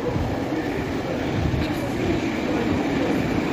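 Moscow metro train at Nagatinskiy Zaton station, a steady loud rumble of rolling wheels and carriages close by, continuous throughout with a faint squeal near the middle.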